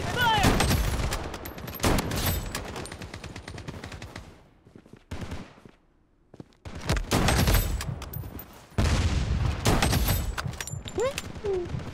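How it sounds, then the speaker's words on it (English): Rapid automatic gunfire in the shooter game Project BloodStrike, loud, close bursts of shots that break off into a brief lull before several more heavy bursts erupt, crackling and dense throughout. "Taking fire!"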